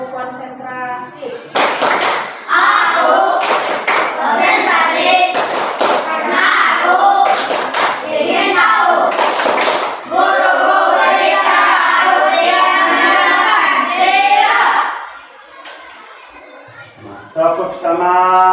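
A primary school class performs a clapping routine, with loud clusters of sharp unison claps interspersed with enthusiastic group chanting by children, followed by a quieter pause and a few final claps.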